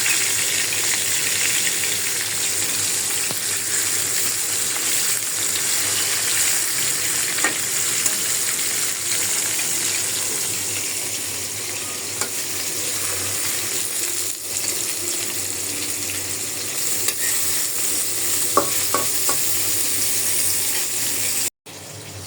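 Hilsa fish pieces, cut with the roe still inside, fry in a pan with a dense, steady hiss of hot oil, close and continuous, with a few small pops and spits.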